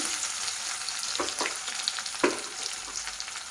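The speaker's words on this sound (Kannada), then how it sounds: "ಬೆಳ್ಳುಳ್ಳಿನ ಲೋ ಫ್ಲೇಮಲ್ಲಿ ಚೆನ್ನಾಗಿ ಫ್ರೈ ಮಾಡ್ಕೋಬೇಕು" Garlic fries in oil over a low flame for garlic rice, giving a brief, even hiss of sizzling with a few sharper pops, nearby and free of speech.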